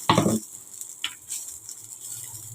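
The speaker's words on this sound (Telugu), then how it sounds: "ఈ పచ్చిమిర్చిని ఇలా కలుపుకుంటూ ఫ్రై చేసుకుందాం" Green chillies stirred and fried in a pan for a village-style tomato and green chilli chutney: a short, loud burst of scraping and sizzling up close, then only faint pan noise and quiet.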